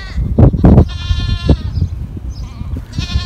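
Goats bleat in a farm pen, several drawn-out nasal cries close by, mixed with thumps and rustling between the calls.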